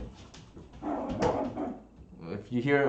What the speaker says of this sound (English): that noise in the background, that's my dog